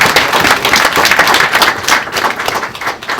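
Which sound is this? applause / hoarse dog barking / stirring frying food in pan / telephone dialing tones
applause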